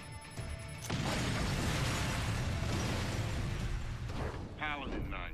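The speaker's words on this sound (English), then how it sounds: "Kaboom." A sudden loud explosion in the stealth action game Splinter Cell: Conviction, a sharp onset followed by a sustained rumbling roar that slowly fades, with a brief voice near the end.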